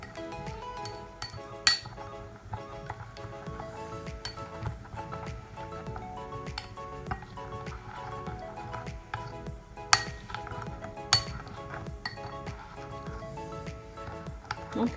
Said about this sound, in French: Nous allons ensuite bien mélanger.